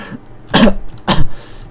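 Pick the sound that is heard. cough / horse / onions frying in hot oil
cough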